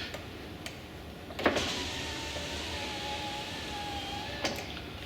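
A car's electric power window motor whirring steadily after lubrication of a slow window, with a faint click near the start and another near the end, heard close inside the vehicle with no speech.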